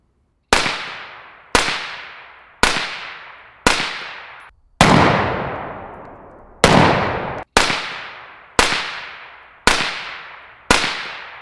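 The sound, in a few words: AR rifle gunshots, Black Anchor Tactical Nautilus 556 suppressor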